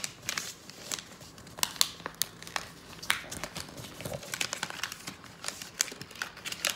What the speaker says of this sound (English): And then I fold it in half, like that.